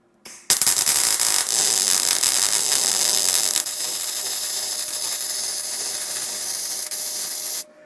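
A YesWelder DP200 double pulse MIG welder running a continuous bead on 16 gauge scrap steel coupons, a loud, close crackling hiss that starts abruptly and holds steady for several seconds before cutting off, with no talk.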